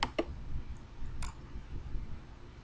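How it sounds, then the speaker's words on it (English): A few sharp computer mouse clicks on a web link, two quick ones close together at the start and another a second later, small and close over a low background hum. "So now we're going to click on the link"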